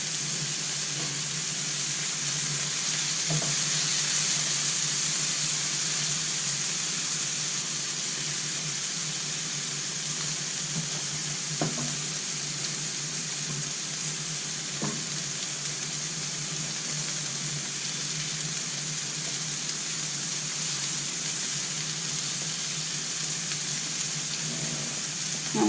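Mushrooms and peas sizzle in a pan for a vegan carbonara, a steady, fairly loud hiss with a few soft clicks of stirring throughout.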